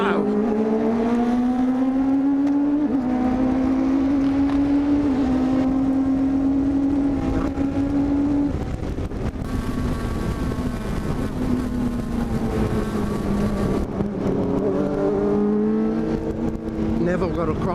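Sports racing cars accelerating hard off the start at Lakeside Park Raceway in a Queensland Sportscar Championship round, a loud in-car engine climbing steadily through the gears with shifts, while a driver talks over it.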